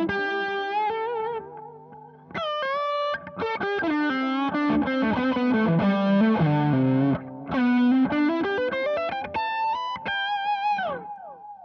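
Electric guitar with a thick overdrive lead tone played through a GGEffects Recall delay pedal, a melodic line of sustained, distorted notes with repeating echoes trailing each phrase, played alone.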